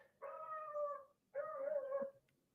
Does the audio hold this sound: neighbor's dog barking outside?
yes